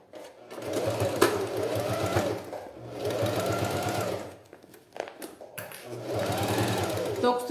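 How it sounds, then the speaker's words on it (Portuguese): A sewing machine with a presser foot stitches the seam of a fabric beach-visor pouch in three sustained bursts of whirring, separated by short pauses, close and fairly loud. "eu vou começar costurando com um pé de máquina"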